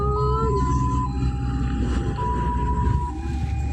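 An ambulance convoy carrying victims after an ammunition disposal explosion in Garut passes with several loud sirens wailing and overlapping in stepped tones, amid heavy traffic rumble.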